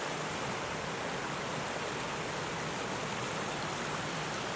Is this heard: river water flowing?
yes